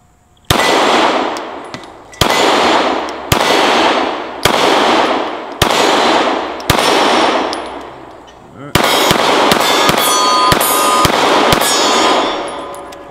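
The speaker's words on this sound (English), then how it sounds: "as far as the experience of just firing the gun, feels about what you expect, you know, it feels like a Glock" Glock Gen5 pistol fired outdoors at steel plates: five spaced single shots, each with a sharp crack and ringing tail, then a rapid string of shots with metallic clangs of rounds striking steel.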